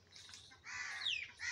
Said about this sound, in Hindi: आवाज़ सुनाई दे रही होगी परिंदों की।